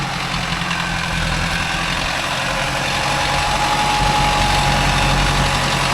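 A Mahindra Arjun Novo 605 DI tractor engine running at a steady idle-like throb, loud and close, with a constant low diesel rumble and vibration and no break for the full six seconds.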